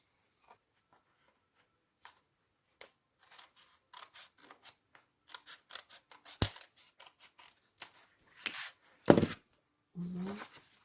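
Scissors snip through paper while a scrapbook album is being made, with a series of short crisp cuts that grow more frequent and louder toward the end, close up and with no talking.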